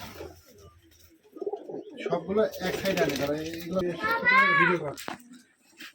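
Rajshahi Giribaz pigeons, color-matched birds kept at a pigeon farm, give throaty coos close by, rising through the middle of the moment, while a person talks over them.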